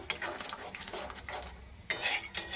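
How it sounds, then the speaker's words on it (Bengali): Mustard paste being stirred into a shol fish curry with mango in a pan: a few scraping, clinking strokes of a spoon against the pan, with a brighter burst of scraping near the end. "সর্ষে বাটাটা দিয়ে ভালো করে আরেকবার নাড়াচাড়া করে নেব,"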